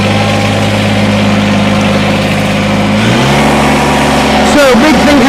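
A 2019 Kubota BX23S tractor engine runs loud and close in a steady idle, then the pitch shifts up and down as it is revved near the end.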